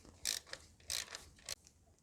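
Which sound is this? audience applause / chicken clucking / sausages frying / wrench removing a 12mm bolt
wrench removing a 12mm bolt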